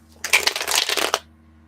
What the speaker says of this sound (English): I think it's kind of loud when I shuffle